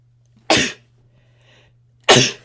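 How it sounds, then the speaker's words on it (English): Two close, loud sneezes from a man, about one and a half seconds apart, each a sharp burst with a soft pause between and a steady low hum underneath. "hold on, I'm going to sneeze."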